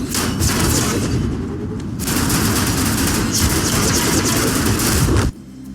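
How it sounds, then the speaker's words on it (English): A tank explodes in World of Tanks with a loud, dense, crackling roar of blasts that lasts about five seconds before cutting off abruptly to quieter noise. "that explosion looks fantastic"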